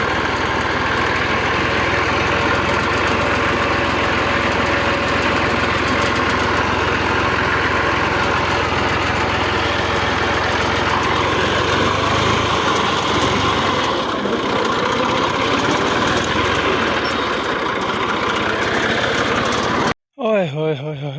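A tractor engine idles steadily in an open field in the Thal desert area of Punjab, a loud continuous drone that runs nearly unbroken for about twenty seconds before a sudden cutoff and a brief disturbance at the end.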